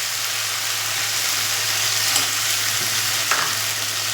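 Onion, tomato paste and cashew paste fry in hot oil with a steady close sizzle and a couple of brief scraping stirs; no one speaks.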